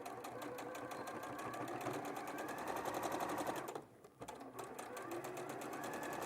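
A sewing machine stitches a bag lining in a steady, rapid rhythmic whirr, pausing briefly midway before resuming, close and moderately loud.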